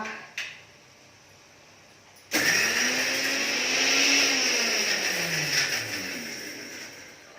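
A kitchen mixer grinder grinding masala dry starts abruptly after a quiet moment and a short knock, then whirs loudly and steadily, its motor pitch rising briefly before settling.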